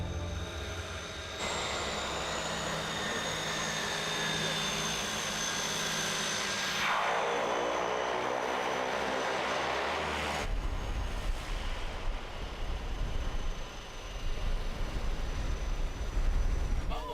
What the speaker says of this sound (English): Yeah, the magic of a jet engine.